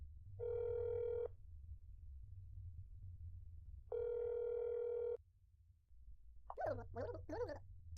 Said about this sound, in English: I'm gonna call your apartment, sir. Just to check. Just a quick phone call.